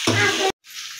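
Spices sauté in a pan over a low flame, a loud, steady close sizzle that cuts off abruptly, then a quieter hiss returns after a brief gap.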